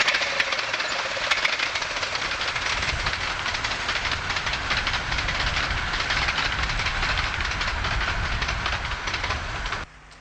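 Southern Maid, a miniature railway steam locomotive, runs along a line across open shingle toward Curtain Road, a steady loud rolling clatter with hissing steam sustained for about ten seconds before cutting off abruptly.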